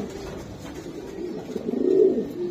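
Long-distance racer pigeons coo close by, a low, soft, rolling coo that swells and fades once over a quiet background.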